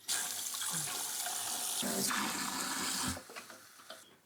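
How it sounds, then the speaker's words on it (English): Cold water runs hard from a kitchen tap during cooking, a loud, steady gush that holds for about three seconds and then cuts off into a few drips and clinks. "I'm gonna put on some cold water."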